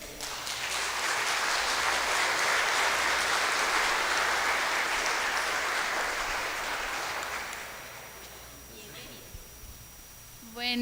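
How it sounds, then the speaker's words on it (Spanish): Congregation applauding during a Sunday evening Mass in church, loud sustained clapping that swells and then gradually thins out, followed by quieter room sounds and a voice starting at the end. "Un aplauso."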